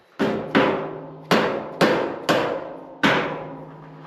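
Six sharp hammer blows, close and loud, tapping pallet rack parts into place while installing used pallet racks in a barn, each strike ringing briefly with a metallic tail in an uneven rhythm.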